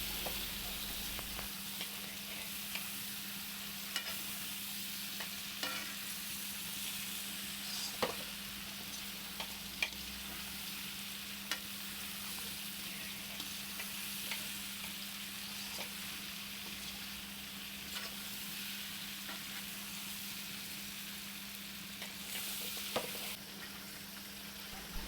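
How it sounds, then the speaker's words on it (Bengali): Cut eggplant pieces are stirred and fried in a pan, making a soft, steady sizzle with occasional light spatula taps throughout. "সেই বেগুনগুলোও আমি দিয়ে দিচ্ছি, দিয়ে ভালো করে একটু নেড়ে নেবো"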